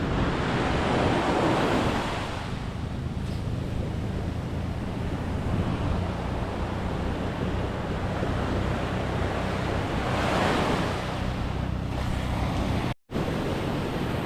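Ocean waves surging and washing in continuously with wind roaring across the microphone, loud and steady, rising in swells, with no voices.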